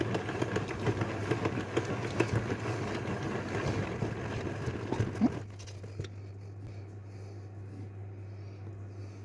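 A Tupperware mixer whisks French meringue for a rhubarb tart at speed 2, a steady mechanical whir with rattling patter that runs for about five seconds, then drops to a quieter, lower hum.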